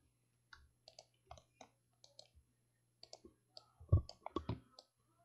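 Crisp computer mouse clicks come in irregular single and double taps, close and fairly quiet, over steady low hum while building in Fallout 4, with a brief louder thump near the end.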